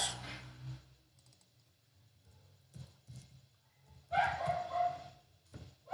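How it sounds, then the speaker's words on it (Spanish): Small dogs bark in a few short bursts in the background, the strongest near the end, mixed with soft clicking like typing on a keyboard. "estos perritos que no dejan estudiar"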